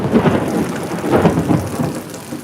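Heavy rain pours steadily in Surat while deep thunder rumbles through, swelling and fading in loud rolling waves with no voices.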